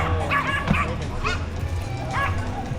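Several small dogs on a street in Guatemala yip, bark and whimper in quick, excited bursts close by, with a voice talking over them.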